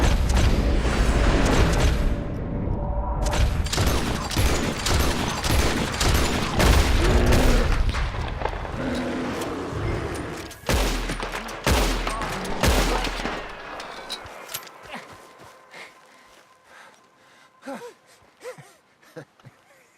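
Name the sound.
gunfire in video game Red Dead Redemption 2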